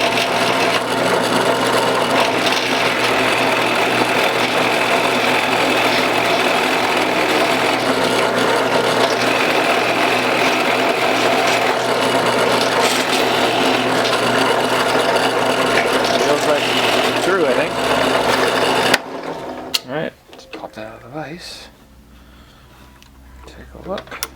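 A router fitted with a cheap router bit cuts wood in a loud, close, steady rasping whine that runs unbroken for about nineteen seconds, then cuts off abruptly into a few faint knocks.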